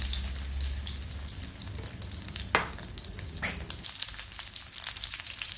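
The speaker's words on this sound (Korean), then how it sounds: "계란물을 입혀서 팬에 고추전을 올려주세요." Egg-coated stuffed chili pancakes fry in a generously oiled hot pan, giving a steady close sizzle with a few brief scrapes and crackles; no one speaks.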